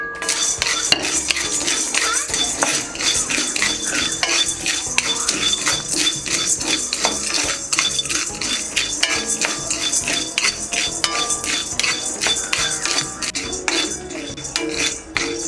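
Peanuts and roasted gram dry-roast in a metal kadai for sesame ladoo, with a loud, busy rattle of nuts and the continuous scraping clatter of a ladle stirring them against the pan.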